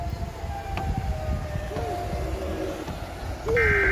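Siren Head creature's siren wail in a park, a tonal rising and falling howl that bends upward near the end and swells louder, over low background rumble with faint voices.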